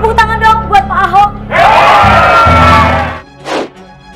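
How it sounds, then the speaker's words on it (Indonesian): A live audience at a stage roast show cheers loudly and claps for Pak Ahok, a governor introduced as a guest. A burst of crowd noise runs about two seconds after a voice, then a short second swell follows. "Tepuk tangan dong buat Pak Ahok."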